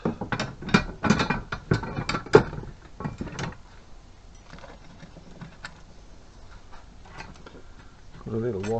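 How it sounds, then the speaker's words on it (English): A ratchet tightens bolts on a new workshop machine, a run of sharp clicking bursts close by in the first few seconds, then quieter handling noise and a short mechanical rattle at the end. "I'll tighten up the bolts."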